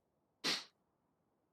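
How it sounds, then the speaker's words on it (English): A single sharp, close sneeze bursts out of near silence, followed a second later by a brief faint sniff-like sound. "I'm sneezing a lot"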